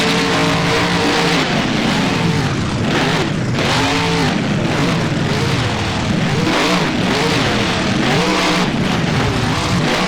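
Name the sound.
monster truck engine revving in BeamNG video game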